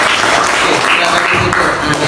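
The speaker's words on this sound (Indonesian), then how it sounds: "beri tepuk tangan untuk kelompok" A classroom group gets applause, a loud, dense burst of clapping that fills the whole short stretch, with some voices mixed in.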